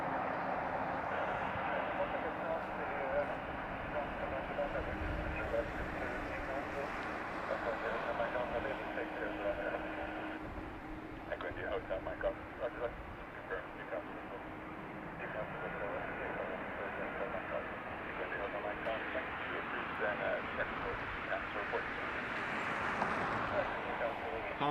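An Aer Lingus airliner from Rome rumbles steadily in the distance at a Dublin airport for the whole span, a low continuous engine roar heard under radio chatter and talk.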